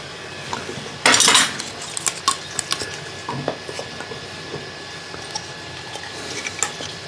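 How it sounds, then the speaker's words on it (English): Containers of freshly distilled grocery-store bourbon clinking and scraping as lids go on, a loud burst of clattering early on followed by scattered lighter taps and knocks, with no talking. "Let me get a lid on these before I spill them"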